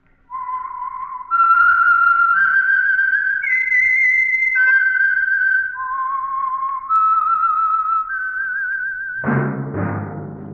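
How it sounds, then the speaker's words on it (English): A lone whistler carries a slow, clear melodic theme for the Signal Oil Program's radio show The Whistler, sustained pure notes stepping up and down, close and loud, ending with a brief musical sting. "That whistle is your signal for the Signal Oil Program, The Whistler."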